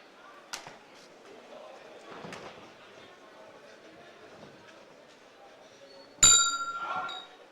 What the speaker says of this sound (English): And the bell stops the fight.